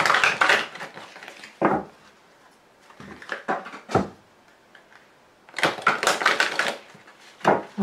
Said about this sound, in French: Alors j'ai encore fait tomber une carte.